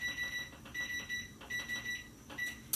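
A kitchen timer beeps as it is set, giving a rapid, faint series of short high electronic beeps in a regular pattern, alone in a quiet room.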